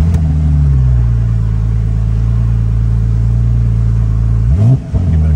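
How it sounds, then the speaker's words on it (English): A car in very good condition starts up close by and settles into a loud, steady idle, then gives one short, light rev near the end. "Go ahead and do a start up here."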